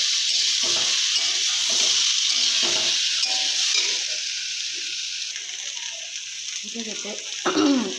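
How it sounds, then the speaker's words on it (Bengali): Food sizzles in a pan with a paste of tomato, turmeric and ripe chili, stirred with intermittent scraping strokes; loud close frying that eases slightly toward the end, with a brief voice near the close. "এবার এটা দিয়ে একটু ভালো করে ভাজা ভাজা করে নেব।"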